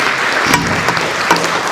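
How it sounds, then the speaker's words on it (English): An audience at a national PDC 2025 event applauds as a presenter leaves the stage, producing a steady, moderately loud wash of clapping with a few sharper claps rising out of it. "round of applause as he leaves the stage"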